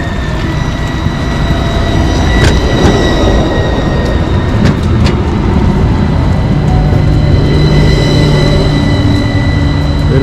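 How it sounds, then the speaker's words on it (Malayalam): A Gothenburg number 4 tram arrives in the city, its steady loud rumble of wheels on rail running throughout with brief squeal-like streaks and a rising tone near the end, no voices. "ഇത് ട്രാം നമ്പർ 4 ആണ്."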